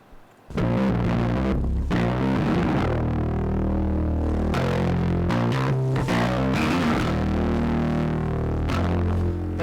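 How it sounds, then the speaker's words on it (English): A bass guitar runs through an Ampeg-style flip-top distortion pedal. Close, loud, gritty notes and chords are played in phrases, with no talking. "This guy is a more Ampeg style flip-top distortion."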